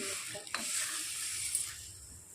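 Hot water poured onto dry-roasted whole green moong in a hot pan erupts into a loud, steady hiss and bubbling sizzle with a brief scrape of stirring, no talking.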